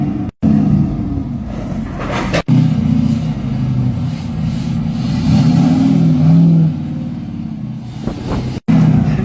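A struggling pickup truck engine rumbles loudly and close, revving unevenly and sputtering, its low growl cutting out abruptly a few times.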